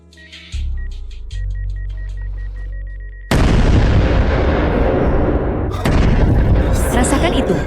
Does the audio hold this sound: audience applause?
no